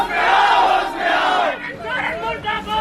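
A crowd of students shouts protest slogans against the Soren government on a Ranchi railway station platform, loud massed voices rising and falling in overlapping chanted bursts.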